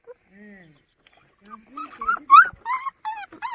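A dog at a rural village home lets out a brief, thin high whimper near the start, followed by people talking and laughing close by.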